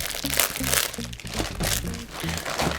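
A plastic parts bag for a Fanhome R2-D2 model is pulled open by hand, giving repeated crinkling and crunching rustles close up, with talk alongside.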